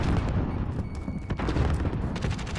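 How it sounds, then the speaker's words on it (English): A grenade thrown and exploding in the shooter game Warzone, its blast buried in a dense, continuous wash of loud gunfire and booms with scattered sharp bangs throughout. "Throwing grenade."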